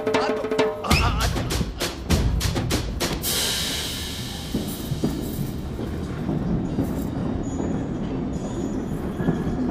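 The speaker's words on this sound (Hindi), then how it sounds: "मेरी ट्रेन छूटी जा रही है" A train pulling away, with sharp rhythmic clanks and bangs early on, then a hissing burst and a steady rolling rumble with faint squeal, fairly close and loud.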